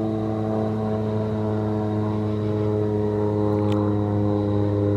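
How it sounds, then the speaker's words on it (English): An airplane passes overhead on an evening outdoors, a steady droning engine hum with layered tonal harmonics holding constant and fairly loud throughout, with no talk. "And there's currently a plane going overhead right now."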